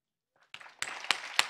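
Applause from an audience at a Governor General installation ceremony in St. Kitts and Nevis begins faintly, then swells into brisk clapping with a few louder claps standing out.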